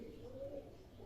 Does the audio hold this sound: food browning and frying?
no